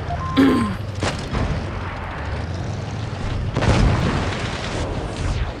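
Tank cannon fire in World of Tanks Blitz: a sharp booming shot near the start followed by a second heavy blast a few seconds later, each trailing into rumbling game noise.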